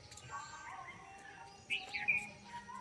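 Faint morning bird chirps and short calls from birds perched on village houses, scattered over a quiet background, with a brighter burst of tweeting near the middle.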